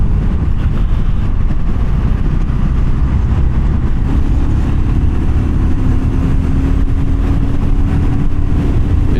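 BSA Goldstar 650 motorcycle engine under way on a test ride, a loud steady rumble mixed with wind buffeting, rising in pitch about halfway through as the bike accelerates to overtake.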